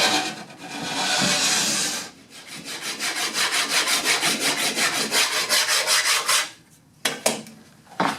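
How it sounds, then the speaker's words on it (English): A Surform shaping tool scrapes wood for a Mission-style reloading bench, with a long continuous rub followed by a rapid run of rhythmic back-and-forth strokes, close and loud, then a pause and a few final scrapes. "this rasp is something called a shore form. It's not a rasp per se. It's more like sandpaper, so I can go in any direction"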